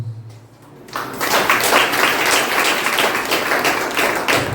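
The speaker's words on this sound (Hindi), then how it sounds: "तालियां मत बजाओ" Audience at a church sermon on the power of the Holy Spirit breaks into loud, sustained clapping after a brief quiet moment, a dense wash of hand claps filling the hall.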